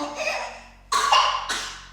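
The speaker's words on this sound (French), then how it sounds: "Alors, qui tousse? Tu tousses, mon chéri, tu tousses." Two short, breathy coughs from a small child, close by, with a brief pause between them and a faint hum in the background.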